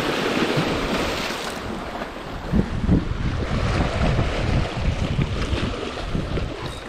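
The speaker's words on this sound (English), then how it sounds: "Very windy. Got a sideways wind" Strong sideways wind buffets the microphone at a shallow shoreline while fishing for bass, with a constant roar of gusts and lapping water and no voices.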